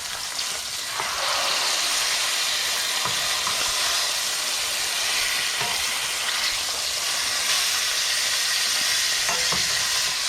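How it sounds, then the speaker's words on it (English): Green salsa pork chops frying loudly in a pan, a constant dense sizzle and spatter with a few soft knocks, close and continuous throughout. "The audio correction does not like it when we fry loud things"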